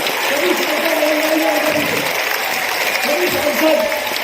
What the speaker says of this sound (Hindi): आदरणीय अमित शाह जी के स्वागत में 1 मिनट तक तालियां बजाइए